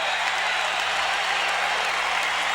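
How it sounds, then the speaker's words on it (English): A basketball arena crowd roars and applauds during a Magic timeout in a 1989 NBA game against the Detroit Pistons, a dense, loud, continuous wash of cheering and clapping with no pause. "Listen to the crowd as the Magic call timeout."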